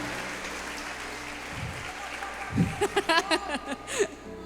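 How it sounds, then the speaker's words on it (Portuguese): A church congregation at a live prophetic service applauds for seu Ivo, a firefighter; the clapping is faint and diffuse, then chuckles and bursts of laughter rise over it toward the end. "Gente, aplaude aí pelo seu Ivo, bombeiro."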